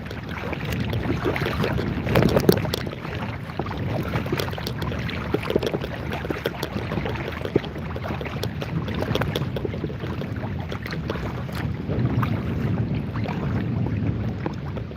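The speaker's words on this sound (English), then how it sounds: "Oh wow, the wind's picking up. Gotta put in some serious effort for paddling." A folding kayak paddled on a river in rising wind, with continuous buffeting wind noise over the microphone and irregular water splashes and knocks from the paddle strokes, close and fairly loud throughout.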